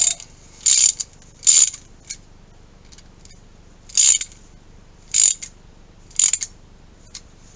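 A socket ratchet tightening a tie rod end nut on a 1998–2003 Ford Expedition or F-150 makes five or six short, crisp bursts of clicking ratchet strokes, spaced with brief pauses, close and clear over a quiet background.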